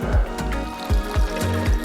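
Stream water trickles and splashes into a bottle on a wet Lake District fell, with a steady close gurgle and several rhythmic glugging pulses.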